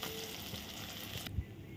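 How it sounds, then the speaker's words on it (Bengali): Bata fish frying in hot oil in a home kitchen, giving a steady, close sizzling hiss that cuts off abruptly near the end with a brief soft thud. "এই মাছগুলো ভাজা হয়ে গেছে, তুলে নিচ্ছি এখন এর উপরে"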